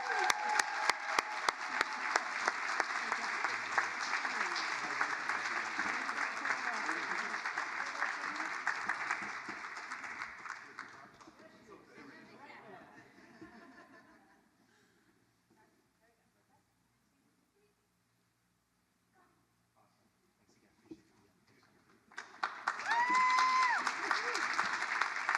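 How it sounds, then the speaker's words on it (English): Audience at a state arts and heritage awards ceremony claps in a full, sustained round of applause that fades to near silence midway, then briefly picks up again with some voices. "Give them one more round of applause."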